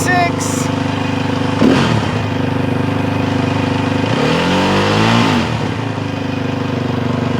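A Yamaha YZ450F dirt bike engine runs nearby at a loud, steady idle, rising in pitch during two short revs before settling back to idle.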